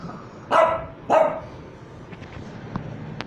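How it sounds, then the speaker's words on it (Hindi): Two close, loud dog barks come near the start, then only quiet background with a few faint clicks. No one speaks. "वो तो भौंकता भी है"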